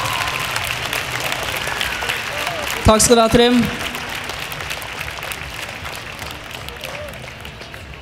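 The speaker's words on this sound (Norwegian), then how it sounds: "Utrolig, gi dem en stor applaus." An audience at a hypnosis show breaks into a short, dense burst of applause that fades after about a second while a voice goes on talking over a background hum.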